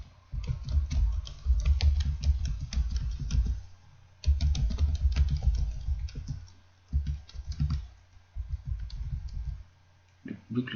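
Keystrokes typed on a computer keyboard while entering text in a word processor, a steady run of close clicks and taps in bursts with brief pauses, including heavier thumps like the space bar.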